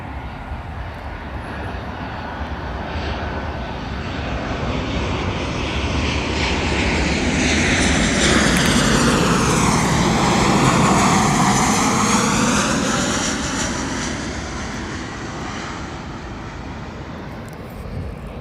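An airplane passing overhead close to an airport, a loud engine roar that swells to a peak near the middle and then slowly fades, with no talk.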